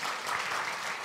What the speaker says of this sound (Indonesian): kita beri tepuk tangan untuk Eliana